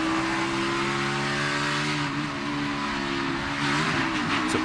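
Joey Logano's NASCAR Cup Series race car during a 2016 race, heard from onboard: a loud, continuous, close engine drone that holds a steady pitch, then wavers and shifts slightly near the end.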